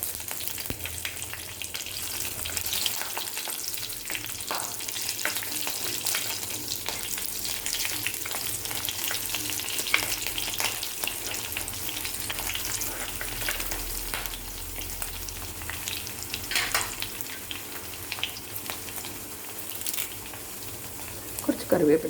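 Slit green chillies and tamarind sautéing in a pan for a coconut-milk fish curry give a steady, close sizzling crackle that runs throughout with occasional scrapes of stirring.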